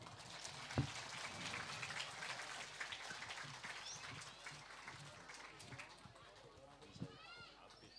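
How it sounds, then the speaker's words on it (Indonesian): Crowd applause at a live band concert in Gang Panili, Jember, a dense spread of clapping that holds steady and then thins out, heard at a distance and faint, with a few scattered sharp knocks. "Tepuk tangannya dong."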